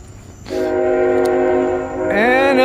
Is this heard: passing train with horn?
yes